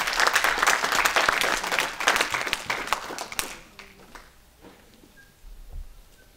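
A church congregation applauding during a sermon, loud dense clapping for about three seconds that quickly fades to scattered claps and quiet room sound.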